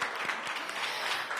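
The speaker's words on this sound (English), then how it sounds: "Yes, we can clap for that." An audience at the Washington Women of Excellence Awards ceremony claps steadily, a dense, continuous patter of many hands filling the room at an even level throughout.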